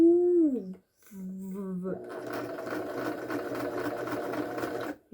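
A sewing machine stitches stretchy costume fabric in a steady, rapid mechanical whir lasting about three seconds, close and clear, preceded by a brief vocal sound.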